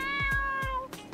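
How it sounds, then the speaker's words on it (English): A cat in the video game Dave the Diver meows three or four times in quick succession, clear and close, over a sustained musical tone from the game. "Gotta see the cat. Say hi to the cat."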